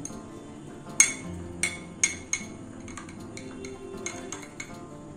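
A spoon presses and levels semolina mohanbhog in a dish, making a series of light metallic clinks and taps against the dish at an irregular pace, close and fairly quiet.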